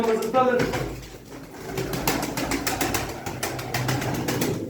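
Pigeons at a Turkish pigeon auction coo in a dense, continuous murmur, with someone talking over them and short clicks and rustles from handling.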